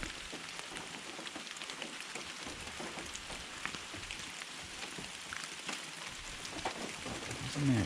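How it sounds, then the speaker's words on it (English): Steady rain pattering on surfaces around a Ford F-350 Super Duty work area, a dense continuous hiss of drops close by with no talking. "Isn't that rain just lovely?"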